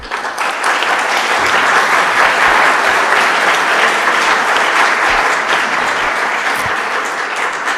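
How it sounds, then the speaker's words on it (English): A conference audience applauds the panelists at the close of a rail innovation discussion, a loud, dense, sustained wash of clapping from many hands lasting the whole stretch. "Please give them a warm applause."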